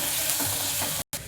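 Onion sautés in a pan for spicy misal, a dense, even sizzle close up that cuts out briefly near the end.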